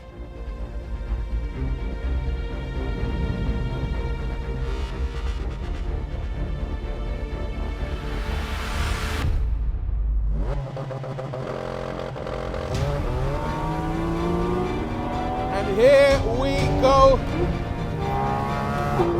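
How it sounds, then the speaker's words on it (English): A Porsche 911 GT4 RS's loud 4-litre naturally aspirated flat-six engine revs and roars through gear changes on a lap, rising and falling in pitch, with a brief voice speaking over it. "That noise is the 4-litre naturally aspirated flat 6 from this car's bigger brother"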